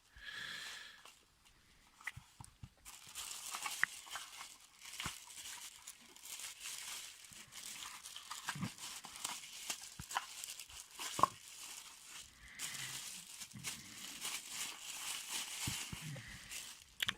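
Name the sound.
handling Takahashi LE 7.5mm eyepiece packaging box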